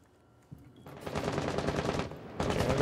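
Automatic gunfire in a first-person shooter match on the Outback map, with sustained rapid bursts starting after a quiet opening. The shots are close and loud, rattling on with a brief lull before intensifying again.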